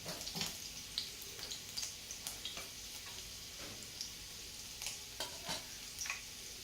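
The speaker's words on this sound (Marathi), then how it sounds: "आधी मी लसणाच्या पाकळ्या टाकत आहे. तेल आधीच गरम होतं." Garlic cloves fry in already-hot oil, a soft continuous sizzle dotted with light clicks and stirring taps from a utensil, close and fairly quiet with no talking.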